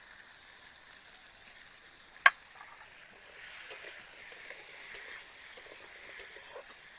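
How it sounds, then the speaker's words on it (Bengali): Vegetables with tomato, onion and green chili fry in a pan over medium heat, giving a soft, steady sizzle with light stirring scrapes and one sharp clink of a utensil early on. "সবজিগুলোর সঙ্গে টমেটো পেঁয়াজ কাঁচা লঙ্কা যা যা দিয়েছি আমি একটুখানি ভাজা ভাজা করে নেব।"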